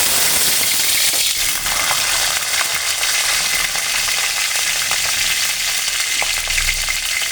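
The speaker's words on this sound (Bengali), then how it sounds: "প্রথমেই দিতে হয় কালো জিরে আর কাঁচা লঙ্কা ফোড়ন। এই যে দিয়ে দিলাম।" Nigella seeds and green chillies sizzle in hot oil for a brinjal paneer dish, giving a loud, continuous, hissing crackle close by, with light stirring near the end.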